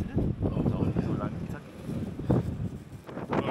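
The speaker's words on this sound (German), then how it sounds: "das lohnt sich fast gar nicht zu sprechen in die Kamera, weil es so windig ist" Wind gusts across a mountain hiking trail in the Giant Mountains at freezing temperatures, buffeting the microphone in uneven bursts while people talk close by.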